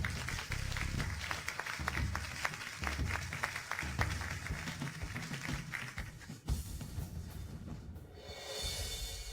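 Applause at a press conference welcoming a project leader to the stage, dense sustained clapping from a crowd for several seconds that thins out toward the end.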